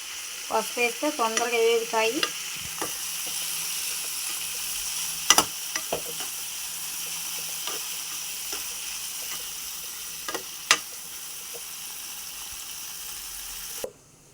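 Gongura leaves fry with turmeric in a pan, a steady close sizzle running throughout, with a burst of stirring scrapes near the start and a few sharp utensil clinks against the pan later on.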